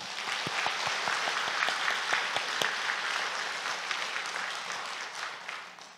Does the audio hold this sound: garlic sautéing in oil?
no